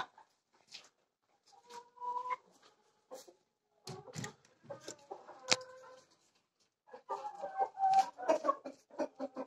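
Caged laying hens cluck in scattered bursts at a poultry farm, soft, moderately close calls that grow busier and denser toward the end, with no talking.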